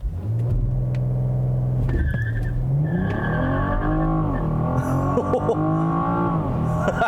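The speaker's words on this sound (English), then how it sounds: "considering this thing was squealing the tires a little bit" BMW M440i convertible doing a launch-control run to 60 mph, its engine note climbing through rising gear pulls with a brief shift dip, and tires squealing faintly near the start.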